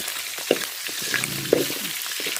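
Fish fries in hot oil, giving a steady close crackling sizzle with a couple of sharper pops or utensil knocks standing out.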